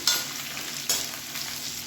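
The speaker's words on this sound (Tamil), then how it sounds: "இப்போ இதில் சின்ன நெல்லிக்காய் சைஸுக்கு புளியும் சேர்த்து வதக்கிக்கலாம்." Garlic, chilli and tamarind sautéing in a pan for a garlic chutney, a soft steady sizzle with two or three scraping stir strokes, close and fairly quiet, no one speaking.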